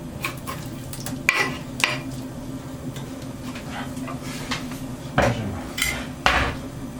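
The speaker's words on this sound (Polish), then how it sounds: "Uwaga smażenie, uwaga smażenie. Dopiero się pyska się tłuszczyk." Cubed ham fries in reheated oil in a pan for spaghetti carbonara, a soft sizzle under repeated sharp clinks and scrapes of a utensil stirring against the pan.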